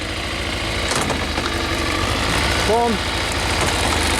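Kawasaki Zed motorcycle engine idling with a steady low rumble throughout, while a person speaks briefly over it; a short rising whine near the end fits a gear change.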